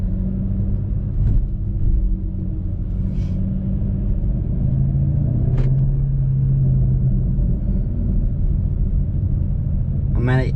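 A Ford GT500 rumbles low and steady as it pulls slowly around after being weighed, its engine a constant close drone with a few faint clicks and brief higher noises over it.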